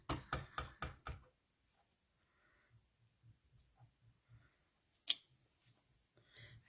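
A rubber stamp inked with Melon Mambo is pressed onto a card, giving a quick run of about five close, firm taps, followed by soft handling noises and one sharp click.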